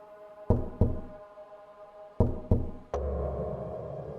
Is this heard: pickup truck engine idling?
no